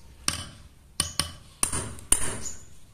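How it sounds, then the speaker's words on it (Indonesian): A hammer drives a nail into solid fired red clay brick with four sharp, separate strikes spaced about half a second apart, close and clear against a quiet background. "Kemudian kita akan coba di bata merah, apakah dia juga sama untuk dimasukkan, dipukul keras, kita pukul."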